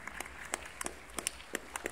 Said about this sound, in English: nice building applause. I like that a lot.